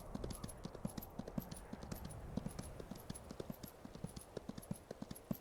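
Horse hooves galloping in the Skyrim video game, a steady rapid clip-clop rhythm of hoofbeats running continuously with faint ambient background and no voice.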